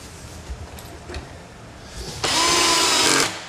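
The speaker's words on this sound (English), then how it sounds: "Crank your torque setting on your drill all the way down." A power drill drives a pocket screw into MDF while a Kreg Jig workbench shelf is assembled: a few faint bumps and clicks of handling, then a loud, steady whirring burst of about a second that stops abruptly.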